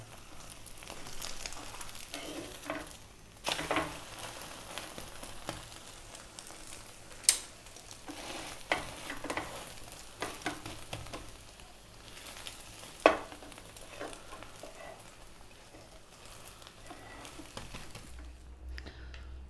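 A simple omelette fries quietly in a pan, a soft, steady sizzle with occasional light taps and scrapes of a utensil, fading out near the end, with no talk.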